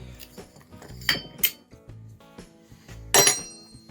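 Metal clinks and clanks from a spacer being pulled off the rear wheel of a Hotshot TFR mini bike, a few sharp close knocks among quieter handling noises, with no talking.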